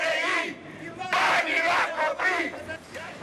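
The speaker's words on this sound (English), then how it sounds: "Using megaphones, they called for him to step down" Protesters at an illegal demonstration in Romania, during a power struggle between the president and prime minister, shout through megaphones: a loud, dense crowd clamor with bursts of amplified yelling that rises and falls throughout.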